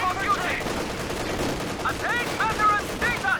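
A British Vickers machine gun fires steady bursts in the World War II strategy game Company of Heroes 2, amid dense battle noise and other game sounds.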